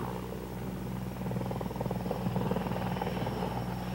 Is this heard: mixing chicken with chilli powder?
no